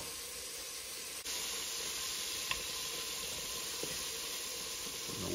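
Pieces of lean gray squirrel meat sizzle steadily in hot oil in a pan, a continuous close frying hiss with a few faint pops and stirring sounds.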